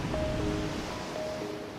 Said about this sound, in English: his ship was caught in a violent gale